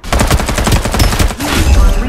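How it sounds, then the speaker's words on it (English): Rapid artillery and gunfire bursts in the battle royale game Farlight 84, a loud dense barrage of repeated shots followed by a rumbling impact. "Time for some artillery."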